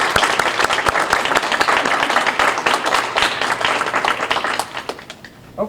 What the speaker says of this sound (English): Please join me in one more warm round of applause for all four of these outstanding representatives.